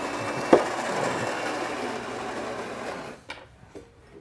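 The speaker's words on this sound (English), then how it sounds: "Brew my espresso." Gaggia Brera super-automatic espresso machine brewing full-strength espresso, a steady mechanical pump hum and rattle lasting about three seconds after a sharp click, then fading into a few faint clicks and drips.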